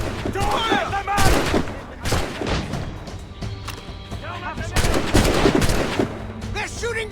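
Heavy gunfire from an Assassin's Creed Rogue battle: repeated sharp shots and fusillade bursts crack through the whole stretch, loud and close, with shouting voices mixed underneath.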